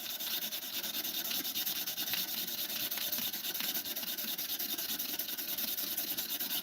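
Steady, continuous abrasive rubbing as sandpaper works a wooden pen blank spinning on a lathe, a constant close hiss without pauses or voices.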